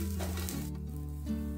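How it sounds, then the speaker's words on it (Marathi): Garlic and onion roast in a pan, giving a steady, close sizzle that holds for under two seconds over a constant low tonal hum. "तर लसूण कांदा भाजून घेऊया।"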